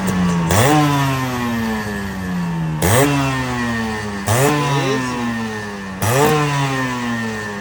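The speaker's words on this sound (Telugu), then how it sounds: "బ్రో లిటరలీ RXZ సౌండ్ నాకు గూస్ బంప్స్ తెప్పించింది అనమాట" A Yamaha RXZ motorcycle engine runs loud and close, revved in four sharp throttle blips that each rise and then fall back to a rough idle.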